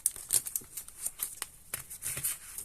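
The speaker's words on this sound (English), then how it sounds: "let's shuffle the cards" Paper game cards being shuffled at a tabletop: soft, close crinkling and riffling, continuous and faint, with no talking.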